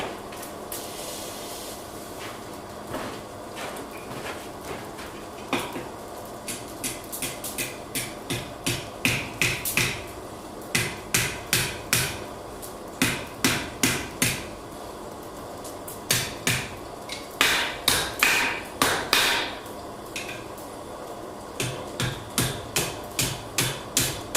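Hammer blows ring out at a forge while a curlicue is punched off hot iron: sharp metallic strikes, spaced at first, then quickening into steady repeated clusters, close and fairly loud.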